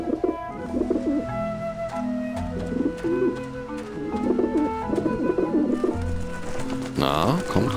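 Pigeons coo repeatedly in the Grim Fandango video game, a steady run of low, rolling calls at moderate loudness with a person talking over them.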